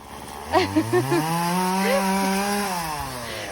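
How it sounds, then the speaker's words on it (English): A chainsaw cuts through trees and bushes at a manufactured home, its engine droning steadily and revving up in pitch at a moderate distance, with a voice speaking briefly over it near the start. "they're over here with a chainsaw."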